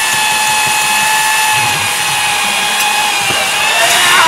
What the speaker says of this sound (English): so just give it a nice and gentle sanding now